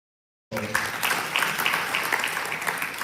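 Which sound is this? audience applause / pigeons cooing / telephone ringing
audience applause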